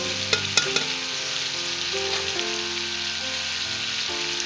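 Chicken fries in a pan with powdered spices, garlic-ginger paste and onion-tomato paste, giving a steady close sizzle with a few sharp clinks of stirring near the start.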